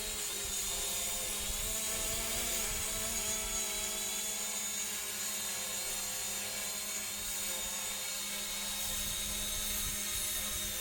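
Hubsan Zino drone hovering outdoors in a decent wind, giving a steady, loud, continuous high-pitched whine with a constant drone and no talk.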